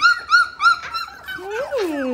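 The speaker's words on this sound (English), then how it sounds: "Beautiful puppies." Three-and-a-half-week-old puppies whimpering up close, with a quick run of three short, high whines followed by longer, rising and falling cries that overlap one another.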